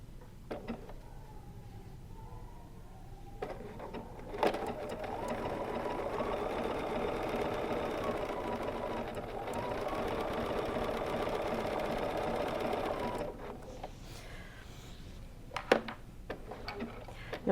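A BERNINA sewing machine runs steadily for several seconds during free-motion quilting with rulers, starting and stopping with a few clicks around it, close and moderately loud while a voice talks quietly at times.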